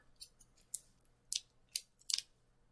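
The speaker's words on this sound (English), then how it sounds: "I'm gonna grab my true control knife, and I think that I'm gonna cut away." A craft knife cuts away material in short, crisp slicing strokes, about half a dozen quiet, close scratchy cuts in irregular rhythm against near silence.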